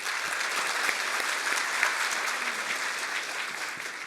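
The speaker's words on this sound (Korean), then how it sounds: "우리 이상우 회장님께 다시 한번 큰 박수 부탁드립니다" An audience at a Korean university student-reporter launch ceremony claps steadily. The dense applause holds even and continuous throughout, with no voices over it.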